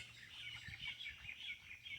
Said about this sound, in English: I'm hearing some beautiful bird calls today.